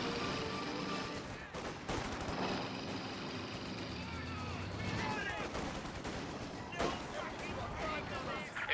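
Rattling small-arms and machine-gun fire from a Company of Heroes 2 skirmish rolls along in rapid bursts at a moderate level, with game voices talking over it.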